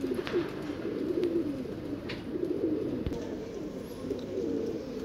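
Black Madrasi pigeons give low, soft cooing in a steady murmuring run, several birds overlapping close by with no other sound standing out.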